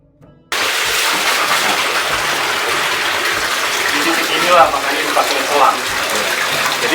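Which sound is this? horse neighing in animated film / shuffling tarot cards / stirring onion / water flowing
water flowing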